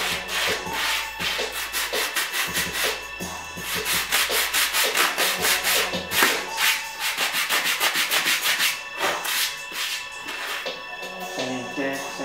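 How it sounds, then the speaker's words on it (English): Sandpaper block rubbing over wheat-colored Timberland leather boots in quick, rhythmic back-and-forth scratchy strokes, close and steady throughout, with no talking heard. "You can use, sandpaper that comes in the little blocks,"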